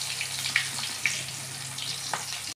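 Stuffed teasel gourd frying in oil in a pan, a steady bright sizzle with a few sharp pops and spatters rising over it, close and continuous.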